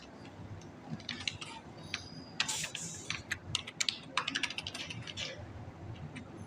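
Fingers type Python code on a computer keyboard, producing rapid, uneven bursts of clicky keystrokes with brief pauses between runs, close and clear with no talking.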